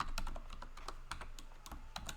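Someone types a password on a computer keyboard, a quick run of close, crisp key clicks in an uneven rhythm with brief pauses.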